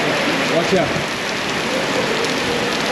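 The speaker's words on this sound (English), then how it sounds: "one of the hardest things to film is actually the rain" Steady rain pours outside a distillery in Saint Vincent, a dense, even hiss that holds close and loud throughout, with a brief spoken warning over it.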